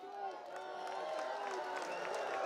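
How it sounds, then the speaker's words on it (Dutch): Applause at a football club celebration swells steadily into a dense patter of clapping and cheering from a gathered crowd, growing slightly louder. "Voor hun een daverend applaus"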